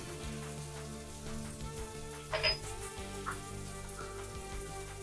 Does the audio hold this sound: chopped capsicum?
yes